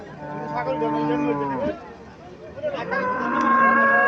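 A big Indian Haryana cow at a cattle market in Cumilla gives two long, drawn-out moos separated by a short pause, the second one rising louder, heard close up.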